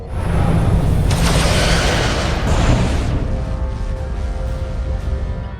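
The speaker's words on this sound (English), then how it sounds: "Fire photon torpedoes!" Photon torpedoes firing from a starship: a loud, booming whoosh and sustained roaring blast that swells and holds for several seconds before slowly easing, with a low rumble throughout.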